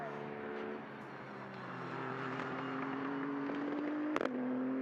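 A 3.8-litre twin-turbo V6 GT race car engine drones steadily past at a distance at Mugello, its pitch slowly rising, with a sharp pop near the end.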